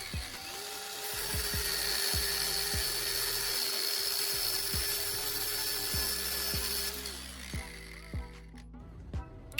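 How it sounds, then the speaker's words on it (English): Angle grinder with a cutting disc trimming welded bolts on an old oil filter top, running steadily as a loud whining drone with repeated sharp clicks and knocks, easing off near the end into short spaced taps. "I'm using an angle grinder with a cutting disc to carefully trim the excess length from each of the welded"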